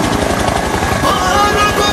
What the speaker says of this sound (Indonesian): kalau yang ini mainan helikopter berwarna kuning